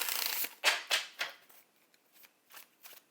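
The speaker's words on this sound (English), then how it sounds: "I'm just just going to shuffle these cards to clear them and recharge them." Tarot cards being shuffled by hand, a run of quick riffling bursts that fade into softer, sparser taps and slides, close and quiet with no talking.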